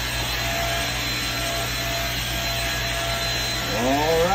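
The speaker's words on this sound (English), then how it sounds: "There's my vacuum cleaner." A vacuum cleaner runs with a steady loud drone while cleaning dirt from the floor of a bus, near and continuous, with a brief rising whine near the end.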